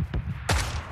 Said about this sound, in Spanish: salió un disparo